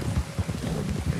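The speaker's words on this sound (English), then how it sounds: "My horse, my scrawny nag, is already tired." Horse hooves clip-clop in a video game, a steady run of soft, low, rhythmic thuds over a faint windy background, with no talking.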